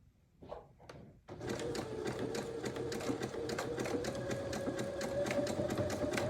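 A Janome sewing machine starts up after a couple of brief clicks and then runs steadily, a fast rhythmic mechanical whir and chatter as it stitches through a thick fabric-covered rope bowl.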